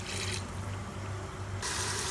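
Water added to tomatoes cooking in a pot, a steady hissing pour that rises in brightness at the start and end, close and continuous with no talk.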